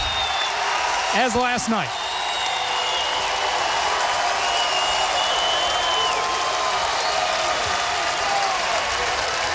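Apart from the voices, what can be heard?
home crowd cheering at volleyball match, Walter Pyramid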